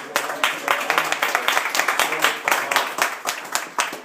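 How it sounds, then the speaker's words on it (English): Guests gathered in a private home clap close by in a brisk round of applause, each sharp hand clap distinct in an uneven but steady rhythm, with some voices mixed in. "Can we get a round of applause?"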